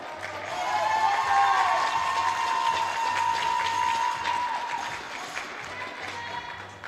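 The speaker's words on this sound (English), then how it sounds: "Come on, audience. Round of applause." Spectators at a junior men's air rifle European championship in Osijek, Croatia give sustained, moderately distant applause that swells and then slowly fades, with a steady hum and faint background noise underneath.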